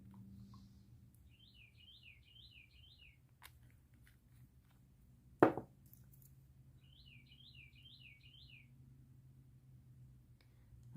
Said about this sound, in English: It must be in the palm tree right outside the window. I would like to know what kind of bird that is.